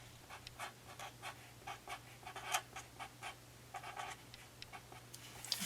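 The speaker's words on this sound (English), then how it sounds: "And I'm going to write that here." A pen writes on paper during a papercraft project, giving soft, close scratchy strokes in an irregular rhythm over a steady low hum.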